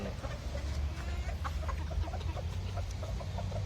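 A young breeding rooster of an imported ornamental chicken breed clucks in a few short, soft bursts over a steady, noisy farmyard background with a low rumble.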